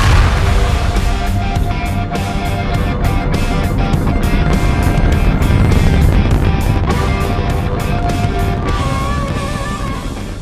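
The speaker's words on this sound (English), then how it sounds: "In Stennis, Mississippi, NASA tests the rocket engines that will power the SLS into space." A NASA rocket engine for the SLS test-fires at Stennis, Mississippi. It makes a loud, continuous broadband roar that holds steady for the whole stretch, with a faint rhythmic crackle running through it.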